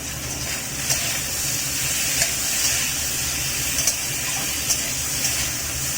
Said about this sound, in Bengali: এই ডাঁটাগুলো একটু ভেজে নেব। এবারে দেব কেটে রাখা টমেটো।